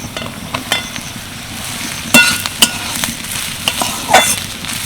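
Soybean mince frying with chopped onion and chili in a pan, a steady close sizzle broken by several sharp scraping stirs of a spatula, with no talking.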